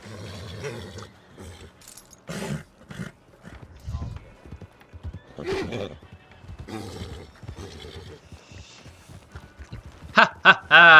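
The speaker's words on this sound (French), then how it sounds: "il est beau mon cheval de début quand même" A horse in the Red Dead Redemption video game clip-clops and neighs, with short hoof and whinny bursts and a louder cluster near the end, mixed with someone talking in French.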